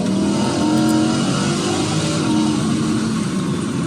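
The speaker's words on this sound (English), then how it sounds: "let's get on down the road onto the highway as we drive this Lamborghini Huracan in sport mode" Lamborghini Huracan engine downshifting in sport mode on a highway, a loud, close rising and falling engine roar with changing pitch from revs and gear shifts, steady throughout with no talk.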